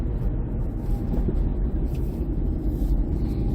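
A 2008 Subaru Impreza 2.0 R with symmetrical all-wheel drive runs on the road, its engine a steady, low droning rumble heard from inside the cabin, with no talk over it.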